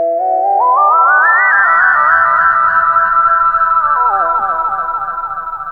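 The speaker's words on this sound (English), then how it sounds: "this preset that was part of the synthesizer pack, and it's called Flute Factor." Eventide H9 pedal running the Flute Factor synthesizer preset, driven by a saxophone, giving a smooth, loud synth tone whose pitch glides upward, sustains with wavering steps, then slowly fades.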